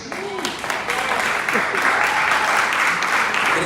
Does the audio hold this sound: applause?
yes